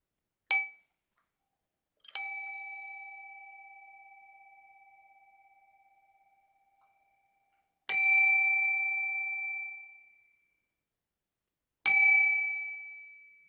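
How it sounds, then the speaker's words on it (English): A meditation bell struck four times in a quiet room during a sitting session. The first strike is short and the others ring out bright and clear, each fading slowly into near silence between strikes. "Were you able to hear the bell?"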